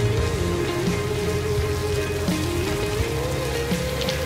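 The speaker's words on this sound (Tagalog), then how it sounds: "Kakainis naman, tagal tumila ng ulan." Steady rain pours without a break, a dense close hiss of drops hitting surfaces under a faint sustained tone.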